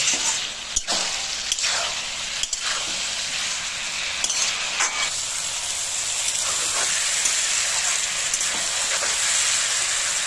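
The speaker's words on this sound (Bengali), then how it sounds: "এবার আমি দিয়ে দেব ভেন্ডি আর আলু ভেজে রেখেছিলাম, এগুলো দিয়ে দেব। দিয়ে 2 মিনিট ভালো করে আমি কষিয়ে নেব।" Pre-fried okra and potato pieces sautéing in a pan for a fish curry, making a constant dense hiss of sizzling oil broken by occasional scraping clicks of a spatula.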